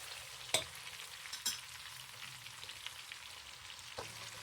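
Onions and meat frying together in a pot, a soft continuous sizzle with a few sharp spoon scrapes and taps against the pot, close but quiet.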